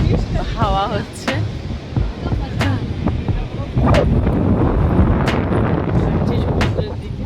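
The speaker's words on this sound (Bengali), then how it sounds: "প্রচণ্ড হাওয়া হচ্ছে" Strong wind buffeting the microphone on a beach at Mandarmani in the morning, loud gusty rumbling bursts and blasts that swell and ease in irregular waves, sustained throughout.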